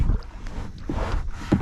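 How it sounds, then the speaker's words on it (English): Paddle strokes on the Severn River while fishing for Murray cod from a small boat or kayak, with a few soft splashing pulls over steady wind and water noise. "Just gonna paddle up here to a random spot"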